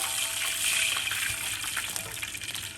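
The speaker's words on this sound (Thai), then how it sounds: "จากนั้นเราก็จะใส่ น้ำเปล่าลงไปเลยค่ะ" Plain water gushes into a frying pan of golden fried garlic for Pad Mee Korat, stir-fried noodles with pork belly, a steady, loud pouring splash lasting the whole moment.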